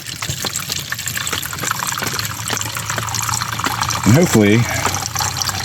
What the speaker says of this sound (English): Fill it all the way up with water.